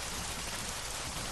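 Heavy rain pours in a dense, steady roar of drops falling on surfaces, loud and continuous with no voices.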